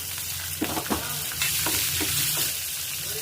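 Coriander seeds, green chillies and cumin sizzle and fry in a pan, a steady close crackle with a few soft stirring scrapes.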